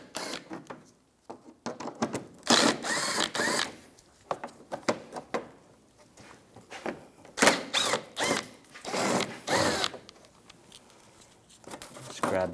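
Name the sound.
10mm socket unscrewing screws on a Toyota Prius grille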